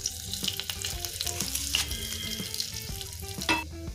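Spices sizzle and spit in hot mustard oil in a pan, a continuous close crackle with a few sharper pops and clinks, no voices.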